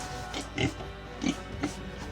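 A pig grunts near a house in the Philippines, three short, low oinking grunts spaced about half a second apart against steady background noise, fairly close and with no one speaking.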